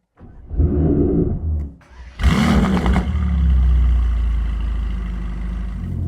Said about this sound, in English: We're going to start with the AMG Emotion Start, which is when you hold the paddle and you get the louder start sound